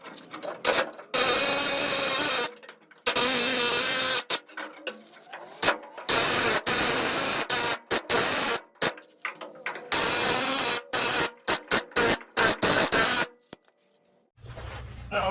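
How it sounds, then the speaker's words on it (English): An air hammer fitted with a sharpened chisel bit punches the heads off rivets on a 1976 Ford F150 during rear lowering work, loud close bursts of rapid rattling that stop and start repeatedly. "Now I have an air hammer and a sharpened chisel bit, and we are going to use this to punch the heads off."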